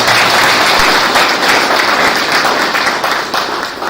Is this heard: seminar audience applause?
yes